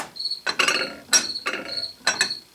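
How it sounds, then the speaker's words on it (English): A dead blow mallet taps metal on a Craftsman metal-cutting bandsaw, four sharp, close knocks spaced roughly half a second apart, each with a bright ringing tail. "A little progress with a few judicial taps of a mallet, dead blow hammer."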